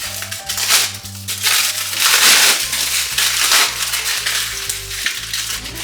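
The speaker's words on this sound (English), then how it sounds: "So now we will unwrap our chilled dough." Chilled vegan pie dough being unwrapped from its wrapping, loud close crinkling and crushing of plastic in irregular bursts throughout, with a faint low hum running beneath.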